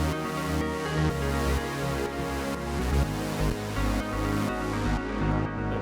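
Layered synth track built from a sawtooth-wave pad, a plucked synth line and a sine-wave sub bass, playing continuously at steady volume with rhythmic pulsing chords and no voices.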